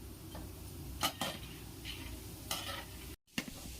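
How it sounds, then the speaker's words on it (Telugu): Lentils fry in hot oil in a pan, giving a steady sizzle with occasional stirring clicks and scrapes, close and fairly quiet. "ఇప్పుడు ఈ ఆయిల్లోకి 1 కప్పు పప్పులు వేసుకోవాలి. వీటిని బాగా వేయించుకోవాలి."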